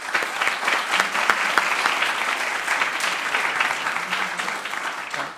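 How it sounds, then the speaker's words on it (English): An audience at an AI summit breaks into a full round of applause, dense and steady clapping from many hands that holds at an even level for several seconds with no voices on top. "I think we should give a round of applause to all of them."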